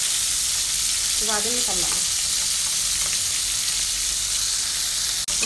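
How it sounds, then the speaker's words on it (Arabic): Alexandrian sausage fries in oil with a loud, continuous close sizzle, while someone speaks briefly over it and a sharp click sounds near the end. "انا مش عايزه احمره قوي علشان ما يبقاش ناشف، يعني هديله كمان دقيقه بس كمان في الزيت"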